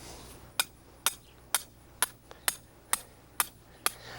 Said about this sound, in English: then we take the rebar and drive it into the bed near the plant